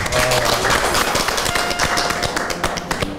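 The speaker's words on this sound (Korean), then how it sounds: "박수 한번 쳐주세요." A studio audience claps together on a Korean Buddhist talk show where monks host, a dense run of sharp hand taps spread across the clip at a steady, close level with no speech.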